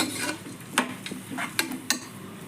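A spoon scrapes and clinks against a pan while rice with spices is stirred for matar pulao, with a few sharp metallic taps over a faint sizzle.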